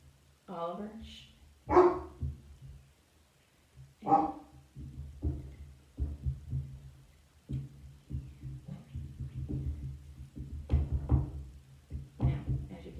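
A pet dog barks a few times at close range indoors during an art demonstration, with short sharp yaps near the start, followed by a person talking over quieter room noise.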